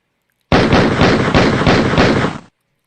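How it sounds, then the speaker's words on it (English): A rapid burst of several loud gunshots cracks out in an even rhythm for about two seconds, close and harsh, with silence before and after. "Did you hear the gunshots?"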